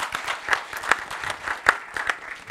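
A small audience applauds a panel at a cyber and privacy conference, with light, scattered claps at moderate distance over a short burst.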